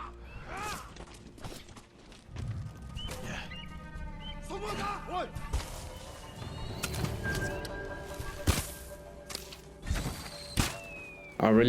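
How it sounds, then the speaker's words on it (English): Pigeon-like birds coo repeatedly over busy Ghost of Tsushima game audio, with thumps, clanks and ambient sound, the calls steady and mid-distance, under a person talking. "I really don't like those birds."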